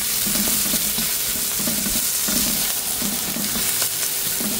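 Colorful mixed vegetables frying in virgin olive oil for a cheesy beef caldereta, a steady close sizzle broken by regular scraping stirs.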